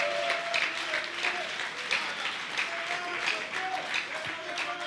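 Applause from the audience at a general assembly in Kinshasa, steady crowd clapping for about five seconds with faint voices murmuring underneath.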